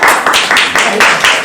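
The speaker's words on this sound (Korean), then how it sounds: "박수 한번 드립니다." A small group of people clapping their hands in a brief burst of quick, rhythmic claps, close and fairly loud.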